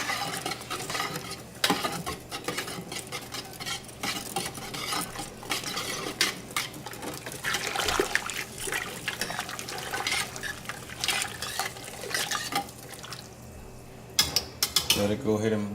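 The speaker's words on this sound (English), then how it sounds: "Whisk it up, stir it up." Turkey brine whisked and stirred in a pot, a continuous close clatter of utensil scraping and knocking against metal with sloshing liquid, fairly loud and busy, ending in a few sharper clinks.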